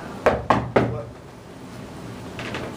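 Three quick, loud knocks on a door, close and evenly spaced, followed by quiet room tone.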